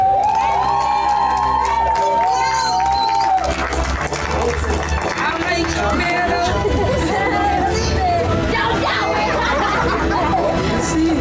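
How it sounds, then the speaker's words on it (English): A beach crowd at a surf challenge cheers and whoops for the winner, with children shouting and some scattered clapping amid loud, continuous excited chatter. "Janodene, give a round of applause."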